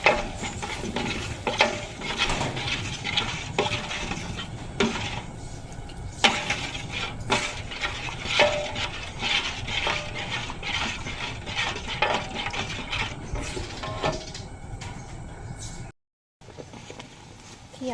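Steady stirring and scraping of coconut cream in a brass pan with a soft sizzle, continuous for most of the clip, with a brief gap near the end.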